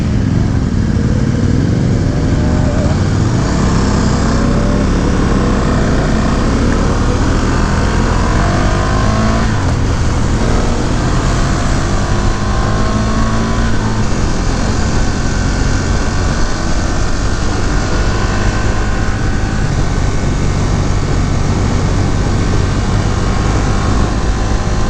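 A 2018 KTM 1290 Super Duke R motorcycle fitted with an aftermarket exhaust revs loud and close, a dense, continuous engine roar that swells and surges for the full stretch.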